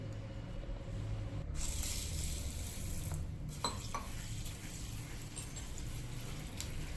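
Urad dal being rinsed in water in a pot gives continuous wet swishing and squishing, with a few sharper splashes partway through.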